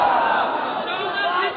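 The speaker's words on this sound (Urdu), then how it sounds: "اب نعرے میرے لگا رہے ہیں" A large crowd at a religious gathering chants slogans in unison. The roar of voices is loud and sustained, and fills the whole moment.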